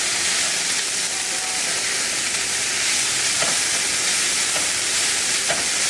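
Bean sprouts frying in a pan for yakisoba give a steady, close, broadband sizzle and hiss, with a few faint stirring clicks and no talk.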